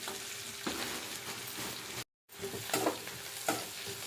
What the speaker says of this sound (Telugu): ఈ ఆనియన్స్ అయితే సగం వేగి ఇప్పుడు ఇందులో క్యారెట్ని, బంగాళదుంప వేసేద్దాం.